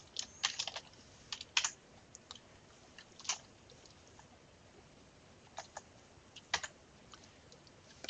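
Fingers tap out code on a computer keyboard, a close, irregular run of crisp clicks in short bursts with pauses between, no talking.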